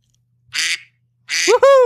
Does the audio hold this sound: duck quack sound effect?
yes